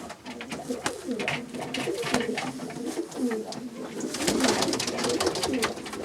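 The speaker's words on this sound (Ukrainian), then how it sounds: "Теж цього года голуби." Young, medium-sized domestic pigeons in a breeder's loft give steady overlapping coos for several seconds, close and continuous, with a person talking faintly underneath.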